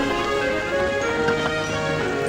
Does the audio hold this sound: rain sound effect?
yes